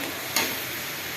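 A steady broadband sizzle of garlic ginger paste frying in a hot pan, with a brief stirring scrape partway through; no voices.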